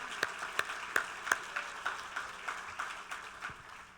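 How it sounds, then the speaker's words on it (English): Sparse, scattered claps from a small graduation-ceremony audience, a handful of distinct hand claps spaced irregularly over a few seconds, fairly faint and thin rather than a full ovation. "round of applause."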